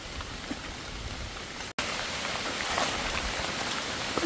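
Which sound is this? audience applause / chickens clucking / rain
rain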